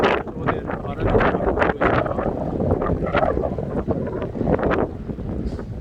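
Strong wind gusts blow around an old willow tree, a protected natural monument growing by water, buffeting the microphone in a continuous rough roar while someone talks over it.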